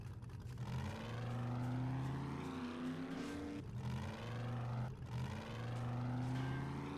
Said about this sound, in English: Okay, I'll park the car.